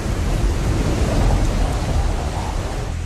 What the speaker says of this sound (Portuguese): Visibilidade de 500 metros através de chuvas e trovoadas.